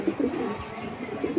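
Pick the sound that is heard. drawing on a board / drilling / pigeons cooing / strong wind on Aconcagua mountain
pigeons cooing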